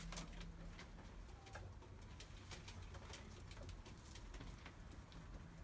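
Pigeons at the Edirnekapı bird market coo softly and repeatedly, with sharp clicks and flutters scattered over a low, quiet background.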